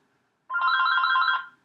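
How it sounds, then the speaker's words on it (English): A phone rings once with a single trilling electronic burst of about a second, clear and nearby against silence. "That's my phone"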